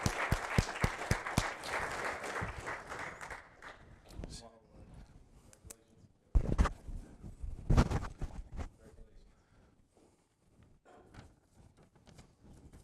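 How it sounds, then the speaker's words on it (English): Audience at a financial analysts' research challenge award ceremony claps in a dense burst for a few seconds, then scattered claps and voices follow, with a second louder flurry of clapping midway before it thins out. "Let's give yourselves applause"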